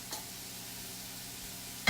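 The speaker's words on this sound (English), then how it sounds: "hear that sizzle? I've got the heat really good." Onions and broccoli frying in a pan over medium heat make a faint, even sizzle, ending in a brief sharp clatter near the close.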